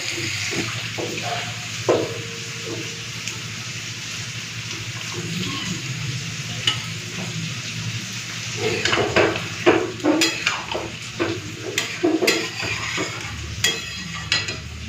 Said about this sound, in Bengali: এদিকে মাংসটা ঢেলে নি কড়াইতে